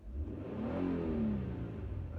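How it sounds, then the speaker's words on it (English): A car engine runs steadily at close range, a low smooth rumble with a slight rise in pitch partway through, no voices. "That's the purr of the engine I like to hear."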